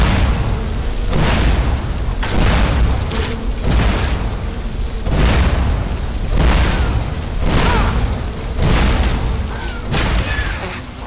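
Fire spell explosions in Skyrim go off in a steady run of loud, broadband booms and bursts, one after another about every second, thick and close, with faint talk now and then underneath.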